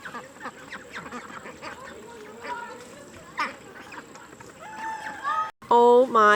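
Farm ducks, including Pekin ducks, quack in scattered bursts under steady background chatter from visitors, and a louder, closer run of quacks comes near the end.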